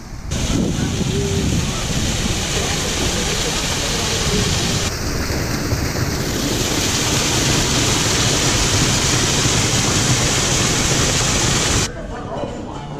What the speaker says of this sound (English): Here's one of the waterfalls.